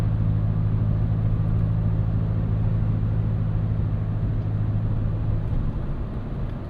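A 2024 Toyota Tacoma TRD Pro midsize truck takes corners at about 55 mph on a damp road, giving a steady, loud low engine and road rumble with constant tire noise that fades slightly near the end.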